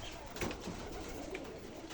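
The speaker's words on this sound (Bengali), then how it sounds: "অসংখ্য কবুতর।" A large flock of Giribaz pigeons in Rajshahi coo softly and continuously, with a few brief calls rising above a quiet, even background hum.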